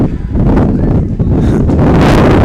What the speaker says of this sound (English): It's a little windy here in southeast Kansas